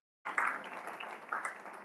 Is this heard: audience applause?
yes